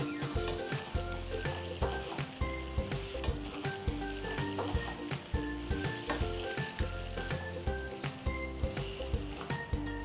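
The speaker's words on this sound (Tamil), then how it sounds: "ஸோ சிக்கனும் அந்த மசாலாவும் நல்லா ஈவனாக கோட்டார அளவுக்கு மிக்ஸ் பண்ணிக்கோங்க" Chicken pieces and masala sizzle loudly in a hot pan for a pepper chicken fry, with constant crackling frying noise and rhythmic scraping and clinking as the mixture is stirred and turned.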